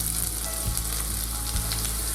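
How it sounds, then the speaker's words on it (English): Chopped shallots sizzle in butter in a frying pan, a loud, steady crackling hiss filling the whole stretch, with a couple of faint low stirring bumps underneath. "we're going to fry them until they become translucent"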